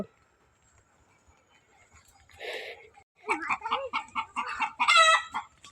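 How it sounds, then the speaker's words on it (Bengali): A chicken clucks several times in quick, close bursts after a quiet stretch with a faint rustle. "মুরগি ডাকতেছে"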